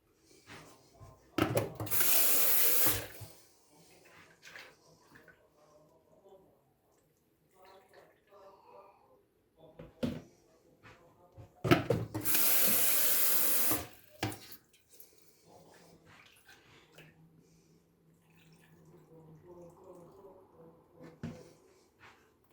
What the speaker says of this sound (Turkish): Şimdi suyu şurada arkadaşlar. Üzerine çıkana kadar eklemeye devam ediyoruz.